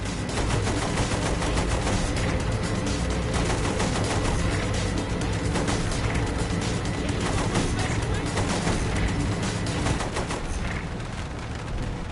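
Sustained machine gun fire from Saints Row: The Third Remastered on PS4, dense rapid bursts with booming impacts running loud and continuous throughout, mixed with game sound and background music.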